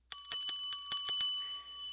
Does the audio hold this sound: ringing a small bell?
yes